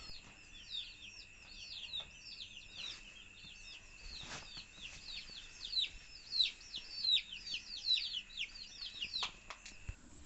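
Native chicks in a brooder peep constantly in high, rapid chirps, many overlapping close by, with occasional soft thumps and rustling, no talking.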